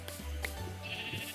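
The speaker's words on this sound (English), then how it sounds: "And Mr. Sheep needs to go bye-bye." A Minecraft sheep bleats loudly and close, a single wavering call that carries through the short moment with no talk over it.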